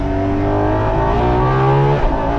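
A Ferrari LaFerrari, nearly ten years old, is driven at full throttle, its engine a loud, close, sustained roar that climbs steadily in pitch as it accelerates.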